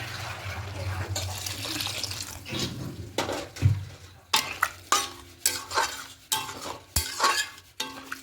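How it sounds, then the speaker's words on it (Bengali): Water added to chana masala in a pan for paneer chana masala, a gurgling splash at first followed by rhythmic spoon stirring and scraping against the pan, close and fairly loud, no talk. "এবার এখানে জল অ্যাড করে দেব"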